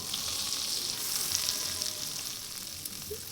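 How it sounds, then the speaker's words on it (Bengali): Flour fries in butter in a pan as the base for a white sauce, making a soft, continuous sizzle with faint bubbling up close at a low, steady level, with no talking. "আটাটাকে একটু ভেজে নিব ভালো করে"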